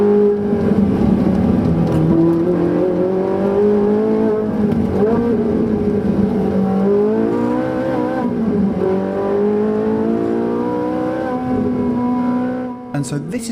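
A Ferrari 458 Italia engine revs hard out of a corner and climbs through the gears on a straight, pitch rising and dropping with each shift, loud and close.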